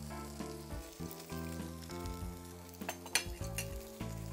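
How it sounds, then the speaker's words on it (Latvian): Meat sizzles and fries in a Zepter pan, a steady close hiss running through the whole stretch under prominent background music, with no talk. "Sākam cept gaļu."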